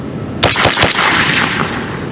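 A custom-built AR-15 with a 16-inch barrel fires .300 AAC Blackout subsonic rounds with no suppressor, several sharp, loud close-range shots in quick succession followed by a brief ringing decay.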